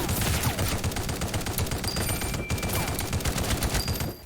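Rifle fire in the video game Project Genesis, a dense, continuous stream of rapid shots, loud and close, with a faint crackle of other gunfire behind it.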